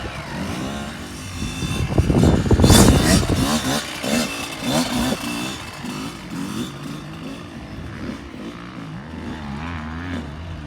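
A motocross dirt bike engine revs up loud and close with a rising snarl, then drops back to a lower, uneven throttle as it moves off, without speech.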